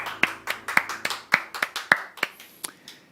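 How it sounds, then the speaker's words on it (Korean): Church congregation clapping in praise during a worship service, a fast run of crisp, close hand claps in a loose rhythm, fading to a few scattered claps at the end. "우리 주님을 박수로 찬양하십시다."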